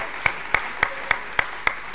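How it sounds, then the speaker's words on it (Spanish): Single claps ring out at an even, rhythmic pace, about seven crisp hand claps in two seconds, part of a church congregation applauding the Lord. "Le damos un aplauso al Señor"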